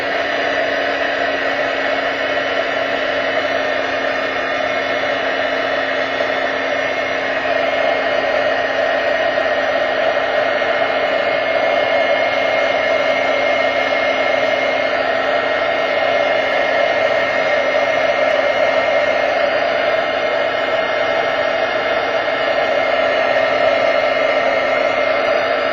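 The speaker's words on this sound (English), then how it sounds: "I'm just going to bring my heat gun over" A heat gun blowing steadily over a craft project to dry ink, a loud, constant whooshing roar with a fixed motor hum that holds unbroken throughout.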